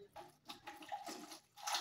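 About a cup of water poured onto chopped mustard greens for sarson ka saag, a splashing, gurgling pour in uneven bursts, fairly quiet and close, with no talking.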